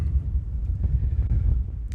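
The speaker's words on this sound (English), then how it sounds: "It's just this blimmin' wind" Strong wind rumbling over the microphone on a Dartmoor hike near the East Dart River, a low, continuous buffeting that stays loud the whole time.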